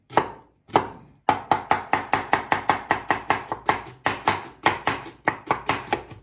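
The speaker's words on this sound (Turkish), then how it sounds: "Sonra bununla doğrayalım." Steady, rapid knife chops through onion on a cutting board, a long run of crisp, evenly spaced strikes after a few slower opening cuts, close and clear.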